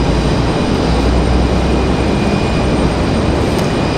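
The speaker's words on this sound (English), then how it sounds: "So there's that United Express CRJ headed to bed over there." A United Express CRJ regional jet flies near Raleigh-Durham International Airport, producing a loud, steady broadband engine roar that stays constant throughout, with no voices.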